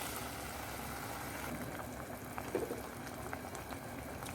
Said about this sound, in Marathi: आता मी यामध्ये 1 कप पाणी ॲड करून घेते.